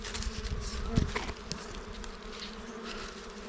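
Dwarf honeybees buzz in a dense swarm around a wild nest being cut from a branch outdoors, a close, steady insect drone with a few brief knocks and rustles.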